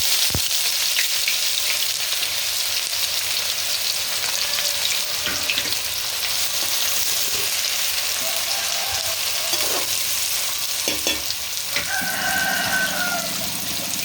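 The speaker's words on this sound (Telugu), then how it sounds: "నూనె కాగిన తర్వాత మెంతులు కొన్ని ఎక్కువ ఎక్కర్లేదు." Fenugreek seeds sizzle in hot oil for a fish curry, a dense, even hiss and crackle close by, with a few light clinks and a brief tonal squeak near the end.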